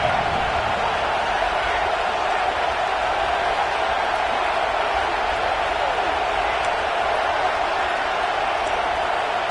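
A home crowd at a football game roars in a steady wash of cheering as the defense faces third down, loud and continuous, with talk over it.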